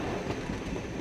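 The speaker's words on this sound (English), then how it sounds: "Re-energized, the little trains continue on." Little cartoon trains roll along their track in a brief, quiet burst of low rumbling wheel noise.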